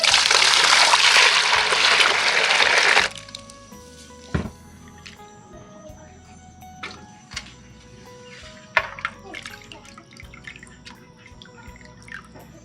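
Shellfish rinsed in a bowl of water to clear off their slime: a loud steady splashing rush for a few seconds, then scattered close drips, wet squishes and small sloshes, with no talk.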